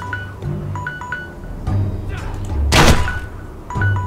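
Crossbow bolt thumping into a target dummy at target practice in the Game of Thrones Telltale video game, a loud broad impact near the middle amid game ambience with soft chimes and thuds.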